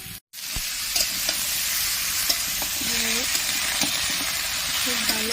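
Malabar spinach stems being stirred in a hot frying pan for a mixed vegetable curry, a loud continuous sizzle with repeated scraping strokes of a spatula, some faint voice underneath.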